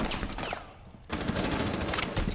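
Automatic weapon with an extended barrel fires in a shooter video game, a rapid, sustained burst of close, loud shots that stops briefly and then resumes in a dense stream, with no talk over it.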